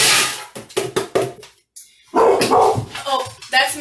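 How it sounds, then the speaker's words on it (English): Dogs in a home kitchen bark loudly in a rapid series of sharp barks, a short pause, then more barking mixed with a person talking over them. "You're hearing the dogs bark when they think it's the door."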